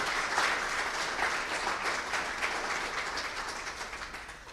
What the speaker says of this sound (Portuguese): Dê um aplauso a esse Deus santo